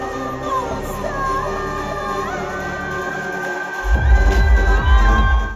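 A concert crowd at Eurovision in Concert in Amsterdam cheers and whoops over music, the roar swelling louder in the closing seconds.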